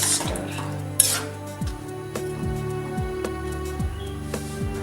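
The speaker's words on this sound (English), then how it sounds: "I'll just stir it" Drumsticks and potatoes in mustard sauce being stirred in a pan, a spoon scraping and knocking against the metal in a steady repeating rhythm of strokes, close and fairly loud with no talking.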